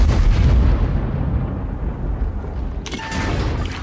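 A loud, booming artillery blast in a World of Tanks-style video game decays into a rolling rumble, followed by another sharp bang near the end, heavy and close.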